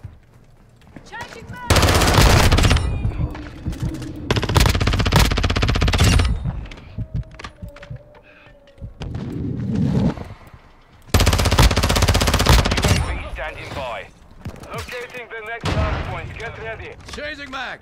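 Video game gunfire in Modern Warfare 2: long loud bursts of automatic rifle fire and shots in several volleys with short pauses, up close, while players talk and shout in between.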